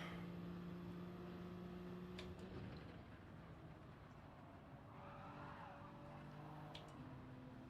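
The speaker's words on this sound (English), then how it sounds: "I got fright there when I heard his tyres squeal" Car tyres squeal briefly during a Gran Turismo 7 online race, riding over a steady drone of racing engines that hold even, fairly loud tones throughout.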